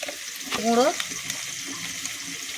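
Water goes into a pan of sizzling chili, turmeric and coriander spices for a small-fish curry, with a brief rush and bubbling hiss over steady frying noise, and a short voice heard near the start.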